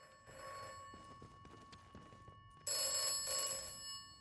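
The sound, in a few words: telephone ringing in the video game Atomfall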